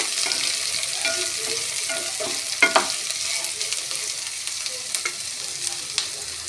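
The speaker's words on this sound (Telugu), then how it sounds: "ఉల్లిపాయలు దూరగా వేయనివి కొంచెం ఇట్లా కలర్ వచ్చేదాకా ఎంపుకోవాలి" Onions for an egg curry frying in a pan, a continuous sizzle with a few soft stirring scrapes and clinks, and no speech.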